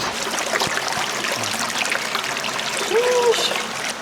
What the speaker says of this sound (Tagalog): Paparinig ko sa inyo yung agos ng tubig.